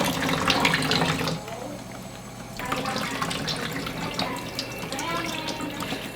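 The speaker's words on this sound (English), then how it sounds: "then I'll just rinse the soap out" Water running to rinse soap out of rabbit hides, a continuous splashing flow that drops briefly then resumes, close and steady, mixed with background noise.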